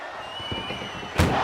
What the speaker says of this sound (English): Trying to force the first door closed.